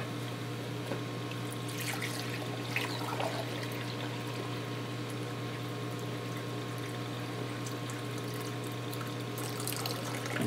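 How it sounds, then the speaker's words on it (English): Distilled water runs steadily into a flower pot stoppered at the bottom, a continuous close pouring and splashing over a low constant hum, with no one speaking. "fill the flower pot with water and keep it to the point where it's got, you know, like a little bit to the surface"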